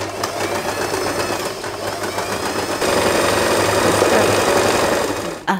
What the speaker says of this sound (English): we simply sew a straight line right here